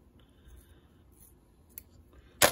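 Scissors trimming the hair tail of a foam mouse fly: a single crisp, close snip near the end after a quiet stretch.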